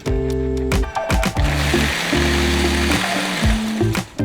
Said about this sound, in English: this is going to go into the blender